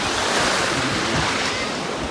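Sea waves in Chania, Crete, a steady, loud wash of surf with wind noise buffeting the microphone, continuous and close.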